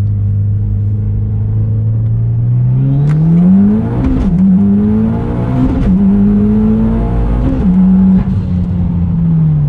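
A Mitsubishi Evo engine hums loudly from inside the car while driving, pitch rising through the gears with brief dips at each shift, steady and close.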